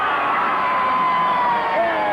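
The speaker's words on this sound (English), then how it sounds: "The crowd erupts." A large crowd at a 1972 Brisbane rugby league grand final cheers and roars continuously, a broad sustained wash of voices with a few whoops rising above it.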